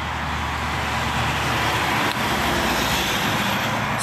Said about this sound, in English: excuse the noise, I waited till that car,